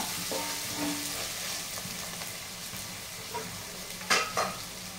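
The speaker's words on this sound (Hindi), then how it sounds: "अदरक लहसुन का कच्चापन खत्म होता है इसको अच्छे से भून लेंगे।" Ginger, garlic and chopped coriander frying in a pan for chicken curry, a steady close sizzle with stirring and a couple of sharp utensil scrapes near the end, no talking.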